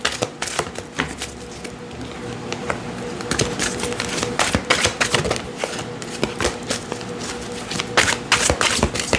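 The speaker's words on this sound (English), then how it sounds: "I want to make sure I get a nice, good, clean shuffle." Tarot cards being shuffled, a dense run of quick riffling snaps and flutters repeating close up for several seconds, with no talking.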